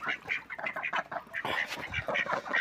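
Ducks quack repeatedly as they are fed cooked rice, a run of close, moderately loud calls in irregular bursts with short pauses between them.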